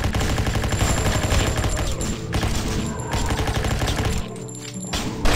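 Rapid automatic gunfire rattles almost continuously in the zombie shooter game ZIC Zombies in City, loud and dense with brief gaps before bursts resume.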